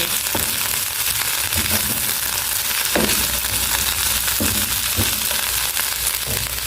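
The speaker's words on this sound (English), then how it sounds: "Just allowing these to cook a little, saute." Vegetables sautéing in a pan for a Dutch recipe, a steady loud sizzle with occasional stirring scrapes and clicks throughout, no talking.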